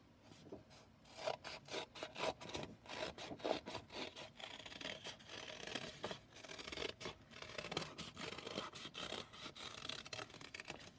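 Scissors cut a folded paper heart shape: close, quiet, repeated snips and crisp paper rustles in irregular bursts, with no talk.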